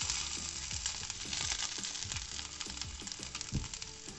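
Chicken roulade frying in oil in a pan over low to medium flame, a close, even sizzle with repeated light scraping knocks from a utensil.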